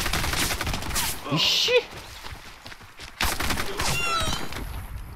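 Gunfire in the online shooter Warface, rapid bursts of automatic fire and sharp shots in two clusters with a quieter gap between, while a player talks over the action.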